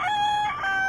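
A speckled white rooster crows once, loud and close, with a harmonic, slightly wavering call that dips briefly before finishing.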